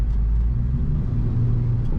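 A 1935 Ford Deluxe street rod being driven, its engine a steady low rumble heard from inside the car, with no talk.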